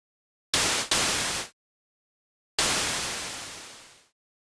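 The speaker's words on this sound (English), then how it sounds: "on oscillator A, I'm going to load up more noise" Two bursts of broadband synthesized noise, a short hiss briefly interrupted, then a longer one fading out slowly; loud and alone, with silence between.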